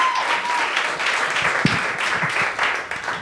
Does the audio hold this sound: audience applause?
yes